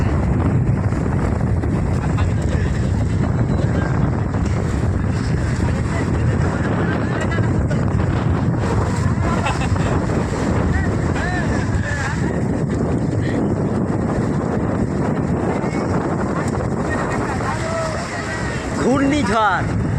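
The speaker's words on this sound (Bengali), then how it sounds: "দেখো আর এই ব্যাপক ঝড়, এই ব্যাপক ঢেউ" Strong storm wind gusts roar continuously over a churning river with big waves, the buffeting rush loud and close against the microphone throughout, with voices faintly present beneath.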